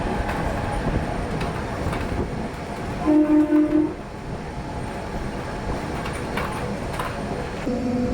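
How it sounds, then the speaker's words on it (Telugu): The Simhadri Express, Visakhapatnam–Guntur train 17240, rumbles steadily through a halt station without stopping, its horn sounding in short tones midway and again at the end over the continuous roar of the carriages. "మన ట్రైన్ వచ్చేసిందండి శృంగరక్షరం హాల్ట్ రైల్వే స్టేషన్ అయితే స్కిప్ చేస్తుందండి."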